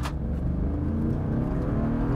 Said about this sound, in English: Nothing towing that weight should be allowed to accelerate that quickly.